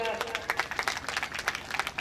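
Crowd applause at a Nirankari Sant Samagam religious gathering comes as quick, rhythmic clapping at moderate volume, with a voice speaking over it.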